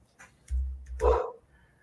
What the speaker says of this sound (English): I have no idea why she's barking.